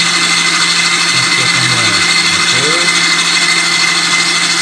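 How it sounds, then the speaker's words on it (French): A stand mixer whirs at high speed in a home kitchen making a caramel and white chocolate mousse entremet, a loud steady motor drone with a constant pitch and faint voices over it. "je mets mon batteur assez rapide"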